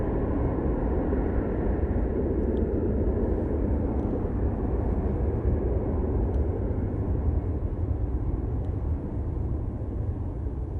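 Aircraft at Manchester Airport, an easyJet jet bound for Prague, heard as a loud, steady broadband roar without breaks, no voices over it.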